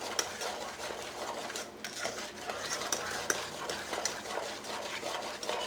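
A utensil stirs ground nutmeg into candied yams in a dish, producing soft continuous scraping and light clinks against the container, close and quiet, with no one speaking.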